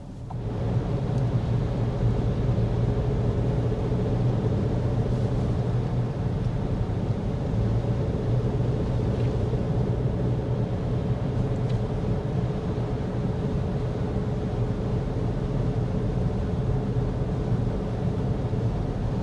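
Steady low cabin drone inside a 2026 Volkswagen Tiguan Turbo while driving, with constant road and engine rumble and faint tonal hum, even and unbroken throughout with no voices.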